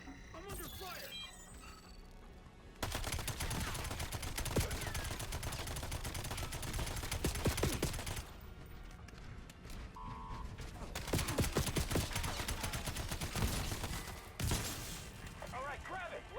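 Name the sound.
gunfire in the video game Call of Duty: Black Ops 7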